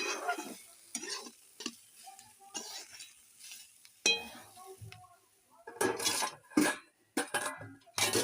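Mustard and onion frying in a pan, stirred with a utensil that scrapes and knocks against the metal in scattered bursts, quiet at first and louder and busier toward the end, with a soft sizzle under it.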